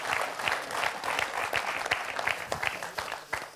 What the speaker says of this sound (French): On peut applaudir Yves qui s'est bien repris.